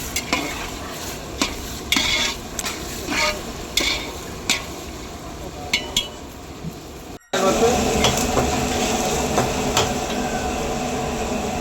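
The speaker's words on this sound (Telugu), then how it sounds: "ఆనియన్స్ అయితే బాగా వేయించుకోవాలి ఫ్రెండ్స్ గోల్డెన్ బ్రౌన్ కలర్ వచ్చేంత వరకు వేయించుకోవాలి" Onions frying in a pan until golden brown for a cucumber tomato curry, with repeated close spoon scrapes over a low sizzle, then a sudden louder, steady crackle in the second half.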